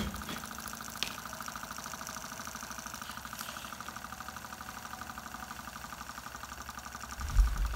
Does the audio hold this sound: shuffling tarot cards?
no